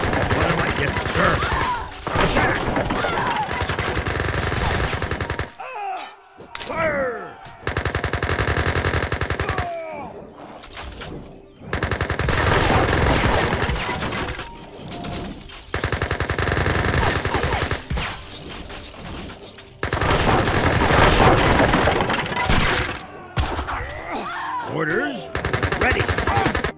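Volleys of massed gunfire in Age of Empires 4, long crackling barrages that come and go in several waves, split by short quiet gaps and battle noise.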